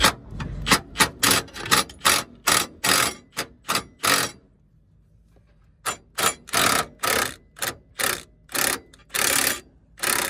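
A ratchet with a 13mm socket turns a wishbone bolt on a Renault Captur, giving loud, close, rapid bursts of clicking strokes, with a brief pause midway before the ratcheting resumes.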